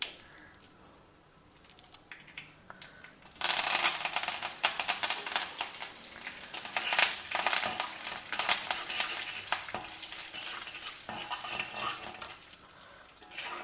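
Chana dal, urad dal and a sprig of fresh curry leaves crackle in hot oil in a home kitchen, a dense close sizzle that bursts in suddenly after a quiet start and keeps spitting steadily throughout.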